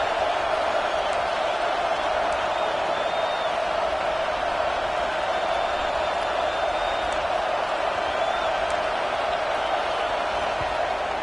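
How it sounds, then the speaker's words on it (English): A stadium crowd in a Texas versus Alabama college football video game gives off a constant, dense roar that holds at one level throughout without distinct peaks. "Big third down as the crowd gets behind this defense."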